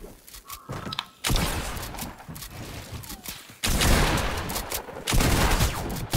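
Gunfire in the video game Fortnite: loud bursts of rapid shots arriving in several waves, with quieter footsteps and mechanical clicks between them.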